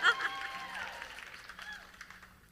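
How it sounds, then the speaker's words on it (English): Applause from an audience at a live Song Suffragettes music show, a broad wash of clapping that starts strong and slowly tapers off, with voices faintly mixed in. "You can clap for that."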